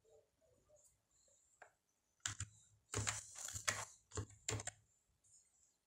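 Fingers type a button name on a computer keyboard, quick bursts of close key clicks after a few faint taps, with short pauses between.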